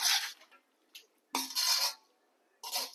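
Pork curry stirred in a pan for a Coorg-style pork dish, a spoon scraping and clinking against the metal in three loud bursts separated by short pauses, close by with no talk.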